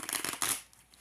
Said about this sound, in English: I'm like having trouble shuffling my cards